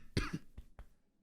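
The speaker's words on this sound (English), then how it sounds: "Sorry for coughing, guys." A few sharp coughs, one heavy burst followed by two shorter ones, close and fairly quiet with no talking.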